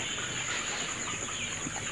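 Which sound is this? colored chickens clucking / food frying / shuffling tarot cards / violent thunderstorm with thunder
colored chickens clucking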